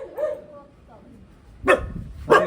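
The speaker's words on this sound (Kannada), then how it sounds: "ನಾಯಿಗಳೆಲ್ಲ ಅಟ್ಯಾಕ್ ಮಾಡ್ತಿದ್ದಾವೆ" Dogs bark and yip in a short aggressive burst outdoors in Bangalore, two sharp loud barks near the end after a fainter whine, with people talking around them.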